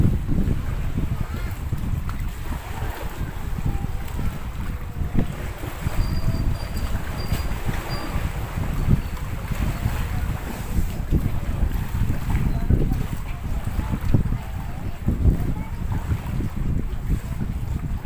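A large outrigger boat rides over rough waves, heard as constant roaring wind buffeting the microphone, rumbling engine and splashing water, loud and unbroken throughout.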